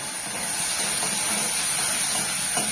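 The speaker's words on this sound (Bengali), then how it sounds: "পুরো ভাজা হয়ে গেছে, বেশি রাখা করতে কাঁচা লঙ্কা দিয়ে দিলাম।" Vegetables with green chilli fry in a pan, giving a constant dense hiss of sizzling oil close to the ear, steady and loud throughout with no voices.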